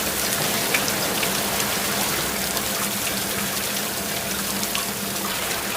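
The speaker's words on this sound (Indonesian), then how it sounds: "Hujan, gimana ya?" Steady, dense rain pours down outdoors, a continuous close hiss of drops on surfaces with no voices and no breaks.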